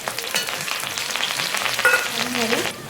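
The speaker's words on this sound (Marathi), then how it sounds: "मिरची चांगली कडकडीत होऊ द्यायची, त्याच्यासोबत कढीपत्ता" Green chilies and curry leaves crisping in hot oil for poha chivda, giving a brief, close crackling sizzle with faint stirring and no talk.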